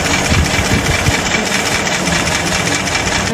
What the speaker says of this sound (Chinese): 并且发动机还存在异响